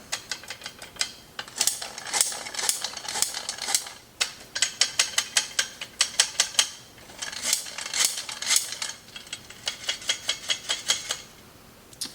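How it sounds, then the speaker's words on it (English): A hand-cranked sifter sifts Christmas baking spices together, giving bursts of rapid mechanical clicking and ratcheting, close and fairly loud, in several runs separated by short pauses, with no talk. "I'm just going to sift all these together"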